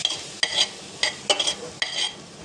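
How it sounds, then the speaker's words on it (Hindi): Vegetables for a diet soup are stirred in a frying pan, giving four or five short scraping strokes of a utensil over a low background sizzle, close and moderately loud. "अब हम इसे थोड़ी देर के लिए फ्राई करेंगे।"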